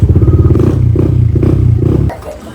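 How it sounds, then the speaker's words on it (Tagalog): A motorcycle runs close by with a steady, chugging low engine note and some clatter, the rumble dropping away abruptly near the end, on a New Year's Eve outing. "Kumuha tayo ng motor."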